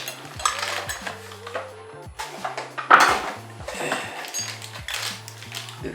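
Metal tools and accessories of a Bosch GOF 130 router clink and rattle as they are handled, with irregular light clatters and knocks over a low background hum, close and moderately loud.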